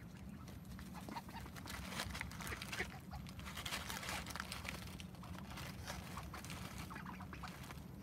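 Ducks quack repeatedly at a campsite by the water, a steady outdoor chorus of calls at moderate distance over a constant low rumble, with no talking.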